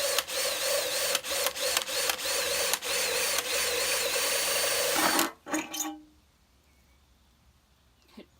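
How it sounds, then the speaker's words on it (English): A drill bores into a vintage tin advertising clock in a loud, steady whining run for about five seconds, stopping abruptly with a few short bursts before near silence. "I'm going to drill a hole in here"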